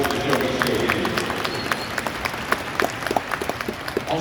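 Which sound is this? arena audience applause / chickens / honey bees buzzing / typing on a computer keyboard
arena audience applause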